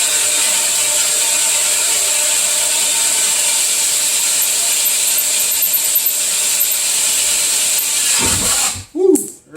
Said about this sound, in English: That's a lot of aluminum getting drilled out.